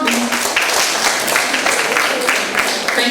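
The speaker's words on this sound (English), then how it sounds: "applause please." Audience applause at a ministerial briefing for a commerce and industry ministry, dense steady clapping from a crowd filling the whole stretch, loud and continuous with no break.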